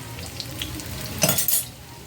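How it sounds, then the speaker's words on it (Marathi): Vadis fry in a pan over a low flame with a soft, steady sizzle, briefly louder around a stir or flip near the middle before settling back. "पळईकडची बाजू मंद आचेवरच मी सगळ्या वड्या तळायला लागले बघा."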